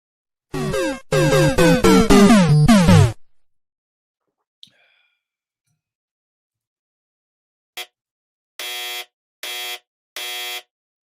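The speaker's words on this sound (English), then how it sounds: "One buzzer for each person that got it wrong" Trivia game buzzers for wrong answers: a long run of rapid harsh buzzer blasts, then silence, a single tiny click, and three loud separate electronic buzzes near the end, with no talk.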